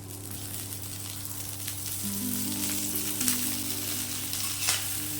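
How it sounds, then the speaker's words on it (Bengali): Moringa leaves frying in a little oil until crisp, a close, continuous sizzle and crackle with occasional louder pops and stirring sounds over a steady low hum. "তেল দিয়ে আরো এক মিনিট মতো ভেজে নেব"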